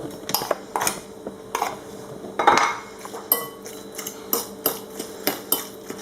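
Ricotta cheese filling is mixed in a bowl with a utensil, giving a steady run of sharp clinks and taps roughly every half second, close and moderately loud.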